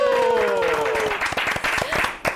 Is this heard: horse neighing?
no